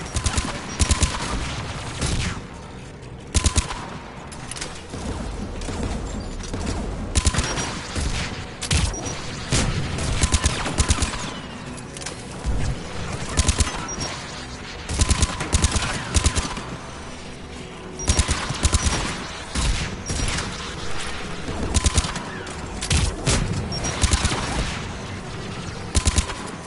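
Anti-aircraft guns in Mass Effect 3 fire in repeated heavy bursts of rapid shots over a constant loud battle din, with booming volleys recurring every few seconds.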